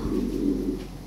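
Lahori Sirazi pigeons give a brief, low, close coo, a soft rolling murmur with no talking over it.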